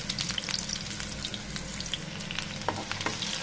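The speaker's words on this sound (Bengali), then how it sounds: "এ পর্যায়ে আমি তেল বসিয়ে দিয়েছি, তারপর দিয়ে দিচ্ছি 3টা মিডিয়াম সাইজের পেঁয়াজ" Three medium onions hit hot oil and fry with a dense, steady sizzle, broken by a few sharper crackles and stirring scrapes near the end, close and unaccompanied by voices.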